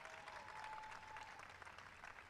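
An outdoor crowd at the White House Astronomy Night in 2015 applauds an honoree, a steady, fairly quiet patter of many hands clapping.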